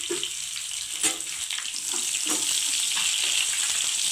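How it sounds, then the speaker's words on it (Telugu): Dried red chillies and tempering spices fry in oil with a steady sizzle and a bright crackling hiss throughout, a few soft clinks and stirring sounds underneath. "ఎండుమిర్చి పోపు దినుసులు కూడా బాగా ఫ్రై అయిపోయినాయి"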